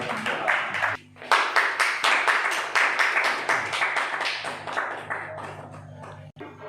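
Loud, dense applause from an audience welcoming a guest forward at a prayer gathering, sustained over several seconds with one brief dip before building again and tapering off.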